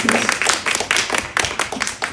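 Audience clapping at a US-Africa trade development forum, a short burst of distinct, uneven hand claps, close and fairly loud, from a small group rather than a full crowd.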